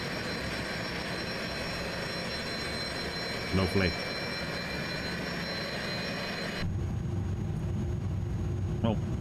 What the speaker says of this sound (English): I love these engine sound effects that INIBUILDS have done with the 300.